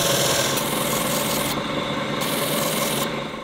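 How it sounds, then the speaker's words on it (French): A chef's knife blade is pre-polished with small circular strokes, giving a loud, steady abrasive rubbing and rasping that pulses in short back-and-forth passes, close and without talk. "j'ai fini le pré-polissage de la lame"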